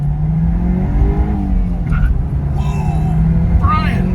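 A 1986 Porsche 944 Turbo (951) accelerates hard, its engine note rising steadily and loud up close, with voices talking over the roar.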